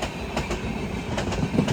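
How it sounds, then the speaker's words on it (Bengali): Kolkata–Sairang Express train running between Baharampur and Krishnanagar, a continuous rumbling rush with faint rhythmic wheel clatter throughout, heard alone without talk. "বহরমপুর থেকে ছাড়লো, এখন যাচ্ছে কৃষ্ণনগরের দিকে কলকাতা সাইরাং এক্সপ্রেস।"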